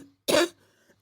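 A single short, sharp cough, close and fairly loud, in otherwise quiet surroundings.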